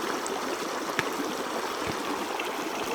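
Dirty water trickles through a Sawyer squeeze filter screwed onto a Smart water bottle outdoors while bikepacking in the Valle Vidal, New Mexico, a steady close-up stream with a small splash near the middle.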